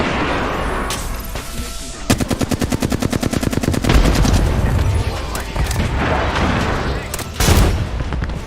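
Automatic gunfire in the video game Apex Legends, with a long rapid burst of shots followed by scattered heavier bangs and more firing, loud and close throughout.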